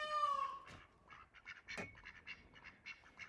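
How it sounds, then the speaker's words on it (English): Close-up honking quacks from ducks, a loud harmonic call at the start followed by a string of shorter, softer quacks and chatter. "The ducks are literally right here at my feet."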